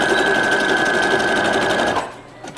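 A sewing machine backstitches a hair track onto a wig cap for a closure wig, whirring in a steady, loud continuous run for about two seconds before stopping abruptly into quiet.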